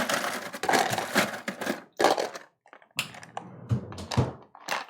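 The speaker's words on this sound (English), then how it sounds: "Put some ice in it." Ice cubes dropped into a small kitchen container clatter and crunch in a dense burst of hard knocks and rattles, followed by a brief pause and more tumbling clinks close by.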